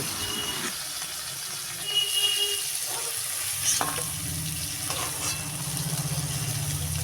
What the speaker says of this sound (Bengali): এবার কড়াই গরম করে তেল দিয়ে তেল গরম হলে একে একে চিংড়ি মাছগুলো